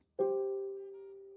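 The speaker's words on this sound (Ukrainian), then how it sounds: "Послухайте, як звучить кварта." Two tones a perfect fourth apart sound together as one sustained interval, struck once and ringing steadily while slowly fading, with no voices.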